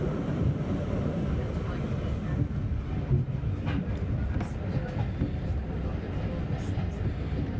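Steady, broadband rumble of a train in motion through the Yorkshire countryside, continuous and close, with faint clicks and rattles over the track and no talking.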